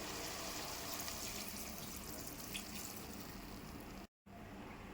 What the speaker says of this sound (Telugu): ఇప్పుడు ఒక గ్లాస్ నీళ్ళు పోసుకుందామండి